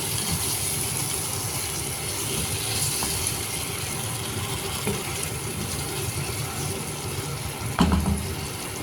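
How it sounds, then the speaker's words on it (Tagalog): Water runs steadily into a cooking pot of chicken apritada with tomato and potato, a continuous close splashing wash with faint clinks and a brief knock near the end. "Tapos lagyan siya tubig."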